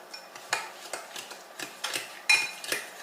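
Cake batter ingredients for mini pineapple upside-down cakes being stirred in a bowl: a spoon or whisk taps and scrapes against the sides in an irregular rhythm of soft clinks, close by and fairly quiet.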